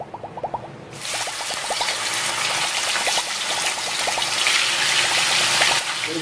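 Pieces of chicken 65 drop into hot oil after a second of quiet, setting off a loud, close, steady crackling sizzle that keeps bubbling to the end.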